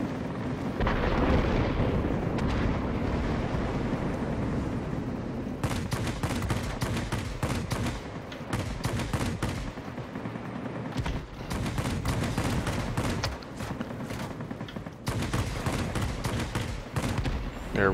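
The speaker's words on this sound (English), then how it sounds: "There's some more of those phantom rounds hitting our aircraft." Rounds of gunfire strike aircraft during an aerial dogfight in World of Warplanes, flying the J7W2 fighter, as rapid machine-gun bursts and impact crackles come in repeated clusters over a steady engine drone, loud and close throughout.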